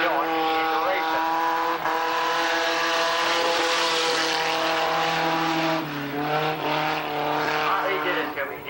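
Race cars roar around a speedway track at Tonopah, 1989, their engines loud and continuous with pitch rising and dipping as they pass, while a voice talks over the noise.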